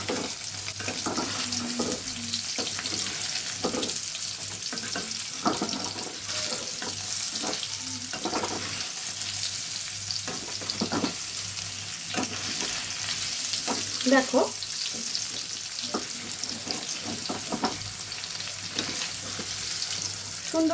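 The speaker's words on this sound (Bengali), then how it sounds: "পনিরগুলো ভেজে নিচ্ছি, খুব হালকাভাবে নাড়তে হবে।" Cold paneer pieces fry in a pan under a continuous, close sizzle, broken by repeated scraping and knocking as a spoon gently stirs them, with a brief spoken word at one point.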